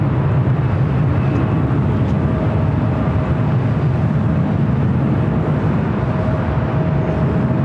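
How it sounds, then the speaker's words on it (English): An Airbus A319 accelerates down runway 24 Left at Los Angeles International Airport, a steady, heavy jet roar with a low rumbling drone that holds evenly throughout, heard from the spotting area. "an A319 now rolling down the 24 left"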